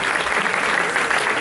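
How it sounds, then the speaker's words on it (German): Dense, steady applause from a concert audience at a show in Köln, loud and continuous with no breaks across the whole moment. "Ein Applaus bitte für Sie."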